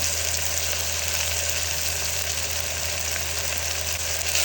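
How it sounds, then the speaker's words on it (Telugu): Coriander and curry leaves fry in a pan, a dense continuous sizzling hiss over a low steady hum, close and even throughout, with no voices. "అందులోనే కొత్తిమీర కరివేపాకు కూడా వేసుకొని బాగా ఫ్రై చేసుకుంటున్నాను"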